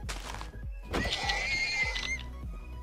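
Horses in the game Minecraft give a loud, nearby whinny with a rising, squealing neigh, followed by soft hollow thuds, with no talking over it.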